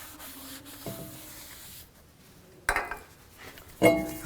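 A rag rubs and wipes over front brake parts of a 2004-2010 Toyota Sienna after a spray of cleaner, with soft scuffing strokes and a few sharper metallic scrapes and clinks close by.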